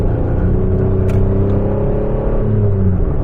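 A Volkswagen Polo with a small, low-power engine drives and accelerates, a steady close engine hum and road rumble from inside the car, pitch slowly rising and falling, with no voices.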